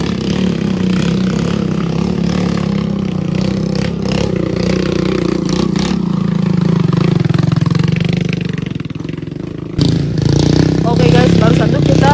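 A motorcycle engine rumbles nearby on a mountain trail up Mount Cikuray, rising and falling as it moves along, with clattering and scraping over rough ground.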